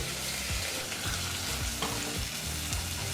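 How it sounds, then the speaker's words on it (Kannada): Onions frying on a medium flame for a restaurant-style mushroom biryani, giving a steady, close sizzle with soft stirring scrapes throughout and no talking. "ಮೀಡಿಯಮ್ ಫ್ಲೇಮ್ನಲ್ಲೇ ಈರುಳ್ಳಿನ ಚೆನ್ನಾಗಿ ಫ್ರೈ ಮಾಡಬೇಕು"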